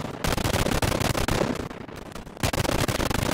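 Rapid bursts of machine gun fire hammer out in dense, loud volleys, with a brief lull before shooting resumes.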